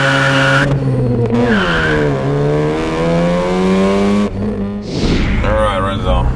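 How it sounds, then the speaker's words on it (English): A 400hp Mazda FD RX-7 rotary-engine sports car driven hard, engine loud and close as it revs and shifts, with tires squealing through a skid; people talk over the roar. "So let's continue driving, Renzo."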